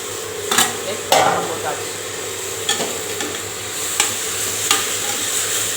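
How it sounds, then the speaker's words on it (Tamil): Tomatoes with salt and turmeric sauté in a pan with a continuous close sizzle, broken by occasional sharp scrapes and clinks of a spoon stirring. "அதனால் இது நல்லா வதங்கட்டும்"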